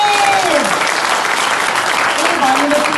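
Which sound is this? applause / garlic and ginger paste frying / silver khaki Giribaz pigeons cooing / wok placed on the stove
applause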